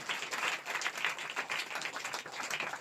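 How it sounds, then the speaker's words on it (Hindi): A church congregation at a Sunday service claps for a child, a dense, steady patter of many hands at moderate distance. "जोरदार तालियां बजाएंगे बच्चे के लिए"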